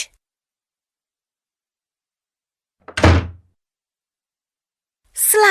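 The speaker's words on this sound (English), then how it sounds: "Slam!" A single loud door slam, sharp and close, with a short heavy thud that stands alone in silence.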